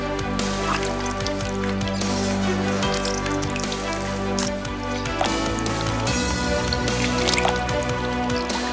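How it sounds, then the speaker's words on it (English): Citrus slices are crushed in a glass to squeeze out pulp and juice, giving a continuous wet squishing and dripping that sits loud and close over a steady background hum, with no talking. "I'm gonna crush these slices to get all the pulp and all the juices out."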